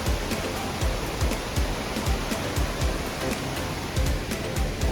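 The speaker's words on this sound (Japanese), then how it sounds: "一応こっちもちっちゃい滝があります。" A small waterfall near Akiu Great Falls rushes in a steady, dense wash of falling water, close and continuous with no voices.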